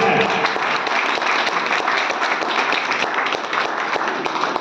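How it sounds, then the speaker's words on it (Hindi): A large crowd at a motivational talk breaks into loud, sustained applause, a dense wash of many hands clapping together that holds steady without pause. "आप लोग चाहता हूँ कि उनके इस प्लेटफॉर्म के लिए तालियां बजाएं"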